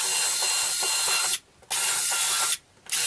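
A drill bores a pilot hole into wood for a fishing pole rack, its steady whirring hiss broken by two short pauses, loud and close with no talk.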